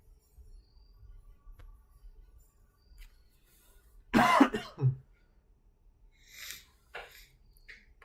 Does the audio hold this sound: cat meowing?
no